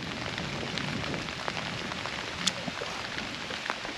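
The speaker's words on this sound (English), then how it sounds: "Raining real hard too." Heavy rain falls in hilly woods, a dense, steady hiss of drops pattering on leaves and ground, with scattered louder drips and no voices.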